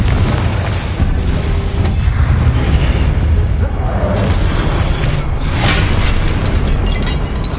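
A Confringo blasting spell from Harry Potter erupts in a loud, sustained explosive roar with heavy low rumble, several bursts and crackles swelling across the span, dense and close with no talk.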